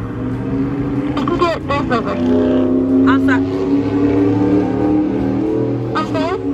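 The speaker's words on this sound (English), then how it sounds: "I couldn't hear you because this motorcycle" A loud engine drones close by as a motor vehicle passes, while people talk over the noise.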